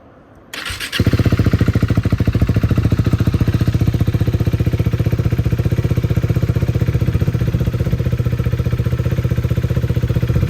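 A KTM Duke 390 fitted with a Leo Vince exhaust fires up after a brief quiet moment, then settles into a loud, close, steady idle with a rapid, even exhaust pulse and no talking.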